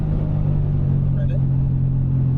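A Subaru BRZ track car on an F1 circuit, its engine droning in a steady, loud rumble as it accelerates, heard from inside the car.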